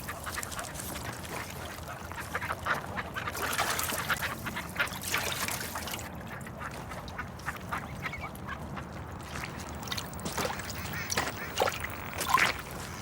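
Ducks quacking outdoors, a steady chorus of calls at moderate distance, with occasional louder nearby quacks over a continuous background of flock noise.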